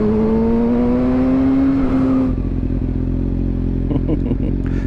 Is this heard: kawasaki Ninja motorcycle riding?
yes